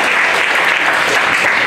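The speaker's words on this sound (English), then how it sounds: "Can we give God a mighty clap of praise?" Church congregation at a Friday worship service clapping in praise, a dense, steady burst of applause filling the room for under two seconds with no break.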